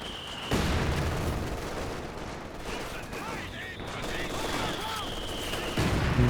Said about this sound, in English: Oh, and those mortars going to work.